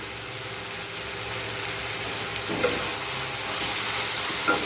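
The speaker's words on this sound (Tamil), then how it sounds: "தக்காளி வந்து நல்லா வதங்கி நல்லா கரையணும்" Tomatoes sautéing with salt in a pan for chicken 65 thokku gravy give a steady soft sizzle, with a couple of faint stirring knocks near the end.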